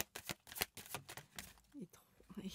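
Tarot cards are shuffled, drawn and handled in a series of quick, close papery flicks and slaps, with soft speech mixed in between.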